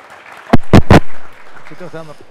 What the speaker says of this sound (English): thanks again to our panelists. A nice round of applause.